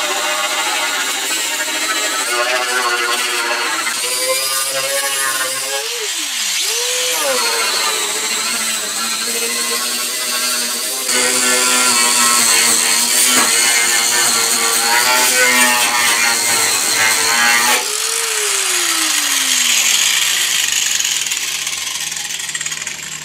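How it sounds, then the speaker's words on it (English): Power tool grinding paint off stock metal fenders on an R32 Skyline drift build, a loud continuous whine close by that changes pitch as the load varies and runs the whole time without talk. "start grinding paint off so we can get a really good look at how everything is"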